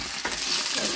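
Chopped mixed vegetables hit hot oil with whole cumin, two dry red chillies and a bay leaf, giving a steady, close, continuous sizzle with a soft stirring swish and no voices.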